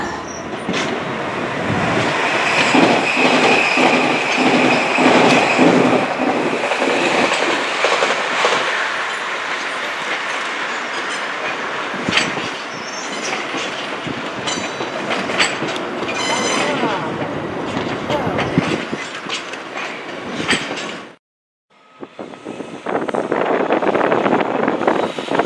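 Canadian-built locomotive in old Freightliner livery passing at Willesden Junction, a loud close diesel rumble with rhythmic wheel clatter and rail noise that carries on for over twenty seconds, with a brief sharp drop-out near the end.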